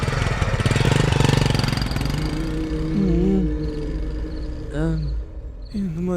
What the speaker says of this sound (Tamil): வண்டி வேற ஸ்டார்ட் ஆக மாட்டேங்குது.